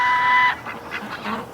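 Ducks gathered outside a front door on a winter day give a few loud, close honking quacks in short bursts, following a steady higher tone at the start.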